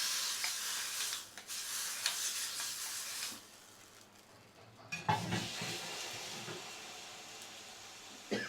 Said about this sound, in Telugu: ఇప్పుడు పోపు రెడీ అయిపోయింది, పచ్చడిలో వేసుకోవడమే.